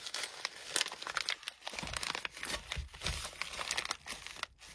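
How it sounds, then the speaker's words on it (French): Paper crinkles and tears up close as a paper envelope is opened, a quiet run of rustling, crackling handling noises with short sharp rips scattered through it and no talking. "je vais ouvrir l'enveloppe hors caméra"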